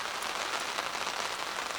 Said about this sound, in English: Just woke up to this. It pretty much rained all night, like sporadically.